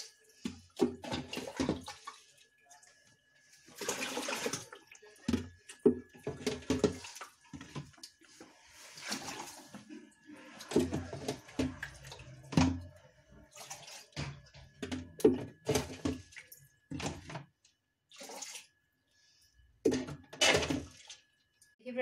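Water sloshes and splashes in irregular bursts as dirty aquarium water is scooped out with a mug and poured, with brief pauses between scoops and a faint steady hum underneath.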